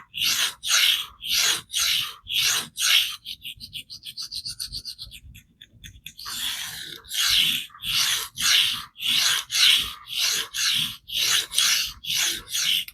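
A knife blade of AR-SFII steel is drawn across an Atoma diamond plate in regular back-and-forth rasping strokes, close and loud, with a short stretch of lighter, quicker scraping in the middle.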